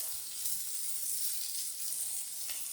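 Beer-infused Italian sausages sear on a grill, a soft, steady sizzle and hiss heard fairly faintly and close, with no talking.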